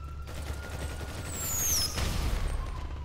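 Fireworks launched in Grand Theft Auto V crackle in a rapid fusillade, with a rising whistle streaking upward before a burst of sharp pops, loud and close.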